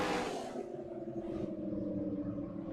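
Car engine in a driving video game mod, held near redline without shifting: a steady, loud droning engine tone with layered harmonics sustained throughout, no speech.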